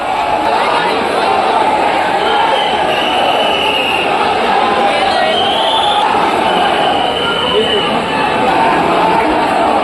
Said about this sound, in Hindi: काफ़ी भीड़ है।